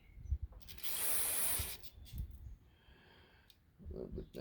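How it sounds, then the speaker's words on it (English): A short, close hiss of aerosol cleaner sprayed into a lawn mower carburetor lasts about a second, with faint handling noises and quiet breathing around it. "Always like to shoot some up in there, spray everything off real good."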